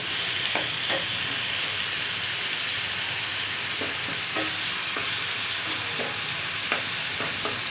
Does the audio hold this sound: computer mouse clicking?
no